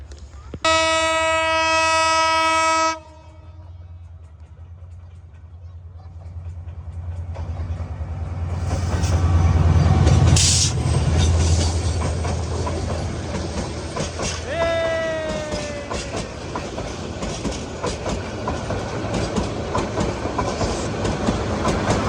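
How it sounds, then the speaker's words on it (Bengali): A train passes close by in Tongi, with a loud horn blast at the start, then rumbling wagons and clickety-clack wheels, a screech of metal, and voices talking and shouting over the din. "ট্রেন আসতেছে, ওই পাশে যাও"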